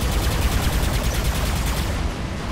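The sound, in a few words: paralyzing shot gunfire in the video game War Robots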